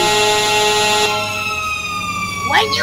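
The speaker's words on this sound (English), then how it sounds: "When you hear these lights and these sirens" A loud fire truck siren in a video game wails up close, steady tones gliding downward as it passes, with a brief voice breaking in at the end.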